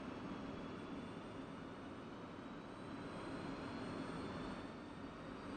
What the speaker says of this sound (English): Now we can go ahead and start the engine.